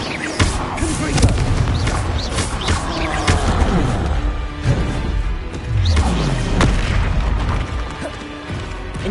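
In Hogwarts Legacy, Confringo fire spells detonate as loud, repeated booming explosions with crashing impacts over about nine seconds. A voice calls out spell names between the blasts.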